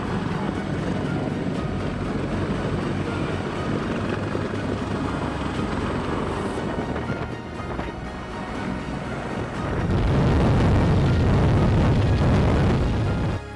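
A CH-53K King Stallion heavy-lift helicopter flies with a steady, loud rotor and turbine roar that swells heavier and lower in the final seconds.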